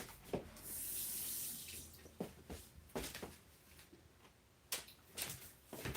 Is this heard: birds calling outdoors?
no